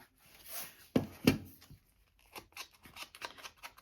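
A paper card being corner-rounded with a small quarter-inch punch while assembling a Christmas ephemera folio, giving a few close, crisp snipping clicks followed by softer handling rustles.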